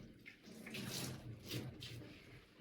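Water draining from a hand-washed wool sweater, soft dribbling and splashing into a basin in a few short bursts, quiet and close, with no voices.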